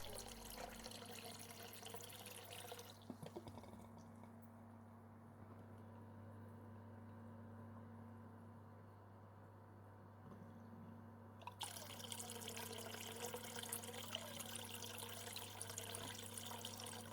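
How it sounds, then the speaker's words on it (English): Water from an auto top-off pipe pours into an aquarium tank, a quiet splashing trickle that runs, pauses, then resumes, over a steady low hum of tank equipment. "my pipe's a little high putting the water into the tank, so it's causing quite a stir going in"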